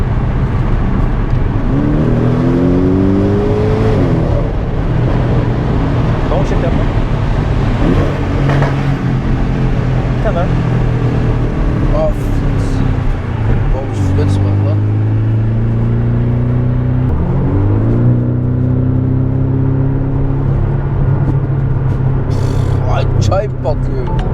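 Porsche 718 Boxster GTS convertible accelerating hard into a tunnel, engine note climbing through repeated gear pulls with brief shift breaks, loud and close throughout, with people talking and laughing over it.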